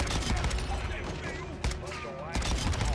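Rapid gunfire from a RAM 7 rifle in Call of Duty crackles in dense bursts over a loud, busy game soundtrack, with a sharp shot standing out near the middle.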